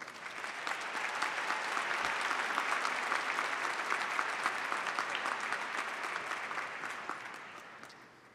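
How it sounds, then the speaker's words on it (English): A large crowd applauds at a December university commencement ceremony, honoring deans and senior administrators standing on the platform; dense, steady clapping swells quickly, holds for several seconds, then gradually tapers off. "Let's give them a round of applause"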